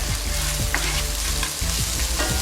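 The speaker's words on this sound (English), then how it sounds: "you cook it until the onion becomes slightly translucent, see-through, soft and tender" Onions frying in a pan for nasi briyani, a steady loud sizzle with bursts of stirring and scraping from a utensil against the pan, no talking.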